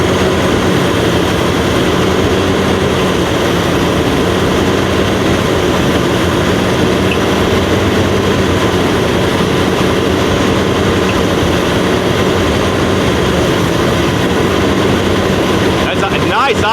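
A 1979 GMC C35 camper's engine idles steadily and loudly, a continuous droning rumble with a smooth, unchanging tone for the whole stretch and no talk over it.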